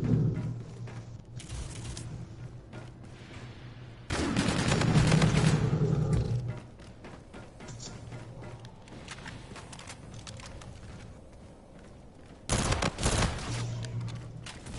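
Rapid bursts of automatic gunfire from the MV4 rifle in a first-person shooter video game on PS4, with a sustained loud volley in the middle and a shorter burst near the end over quieter game ambience.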